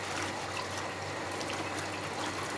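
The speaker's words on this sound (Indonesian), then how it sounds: "Kita nyalakan airnya" Water pours steadily into the tub of a Panasonic twin-tub washing machine for rinsing, a constant broad hiss and splash with no break and no talking.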